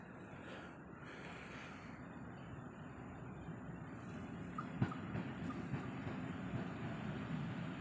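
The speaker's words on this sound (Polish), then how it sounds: "Wjeżdża pociąg Intercity Podlasiak, relacji Suwałki-Świnoujście." Intercity Podlasiak passenger train pulling into a station platform, a steady low rumble of wheels and rolling stock building slightly, with a brief sharp clank partway through and no talk.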